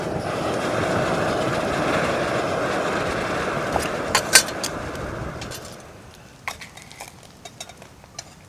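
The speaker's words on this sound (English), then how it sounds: "It's windy." Strong wind from a 60 mph storm roars steadily and loud for about five seconds, then drops away, leaving a few sharp clicks and knocks against quieter gusts.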